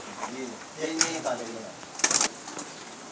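Pigeons from a fancier's prized loft cooing softly in low repeated phrases, with a few sharp rustling bursts and a person talking nearby.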